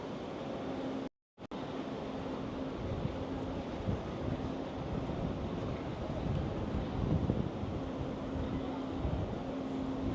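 Wind buffets the microphone on the elevated High Line park in Manhattan, a constant rushing roar with a brief dropout near the start and city hum beneath.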